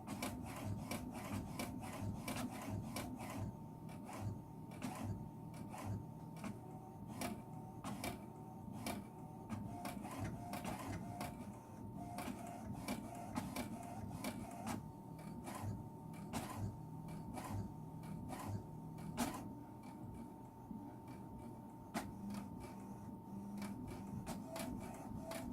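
An HP Deskjet printer printing a report makes a steady mechanical whir, with regular sharp clicks and carriage shuttling repeating throughout at close range.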